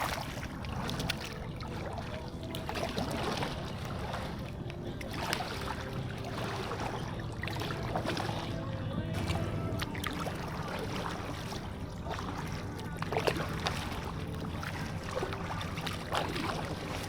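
A new canoe is paddled across the water under an overcast sky, with soft splashes and dips carried over faint wind noise at a modest distance.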